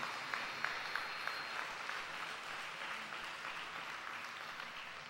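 Congregation at a morning church service breaking into sustained applause, a dense wash of clapping with a few sharper claps standing out early, holding steady throughout.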